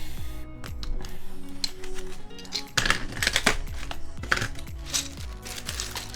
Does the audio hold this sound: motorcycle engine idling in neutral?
no